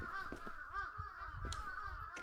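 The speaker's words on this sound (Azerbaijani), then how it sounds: "Qarğa səsi problemdir onsuz da." A crow caws in the horror video game Akai Onna, a few rough, drawn-out calls over a steady background drone.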